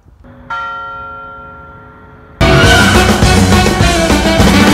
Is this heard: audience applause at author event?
no